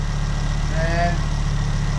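A car engine idles steadily just after being started, its low, even hum running alone without break.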